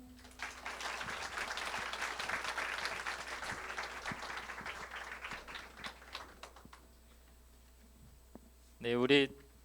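A church congregation claps warmly for a pastor after a youth leadership lecture, a dense round of applause that fades out and is followed by a brief voice.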